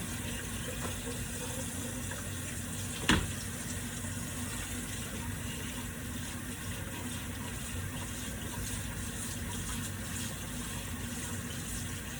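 Steady running tap water pours continuously into a kitchen sink during dishwashing, with one short sharp clink partway through and no talk.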